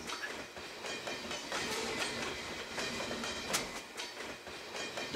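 A train rolls along rails with a steady rumble and repeated clickety-clack beats of the wheels on track joints, close and continuous, with no voices.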